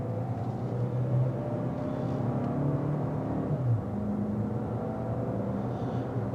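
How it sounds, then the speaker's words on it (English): The four-cylinder engine of a 2025 Chevrolet Equinox RS drones and rises in pitch under hard throttle, a steady loud hum heard from inside the cabin with no talking. "it's definitely going to give you some four-cylinder engine noise when you really get into the throttle"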